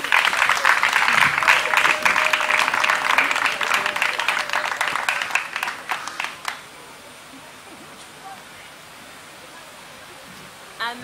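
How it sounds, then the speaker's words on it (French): Wedding guests applaud the groom with loud, steady clapping that keeps going for several seconds, then quickly drops away into a quiet room with faint background voices. "Est-ce qu'on peut l'acclamer?"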